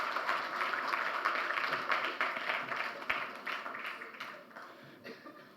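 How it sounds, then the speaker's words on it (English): Conference audience at the Atlantic Dialogues applauds a speaker being welcomed to the stage, a steady wash of clapping that gradually fades toward the end. "A big round of applause."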